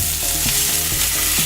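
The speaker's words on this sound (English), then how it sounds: "that is a very, very nice sizzle" Blackened redfish sizzles hard in a hot pan over high heat, a loud, steady frying hiss close up with no talk.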